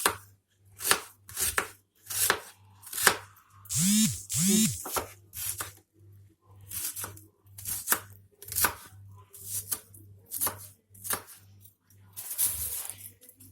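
Steady rhythmic knife chops on a cutting board as vegetables are cut for moussaka, close and crisp, with a couple of brief rustles midway and a low hum underneath.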